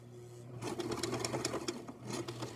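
Sewing machine stitching closed the gap in a pyjama pants waistband, a steady close whirring run of about two seconds with no talk.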